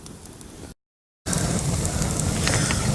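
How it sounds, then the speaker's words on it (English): A campfire of pine wood burns outdoors while camping in Arizona, giving a steady close hiss and soft crackle that cuts out briefly to silence, then returns louder with scattered faint pops. "I finally got a big enough fire where I'm warm."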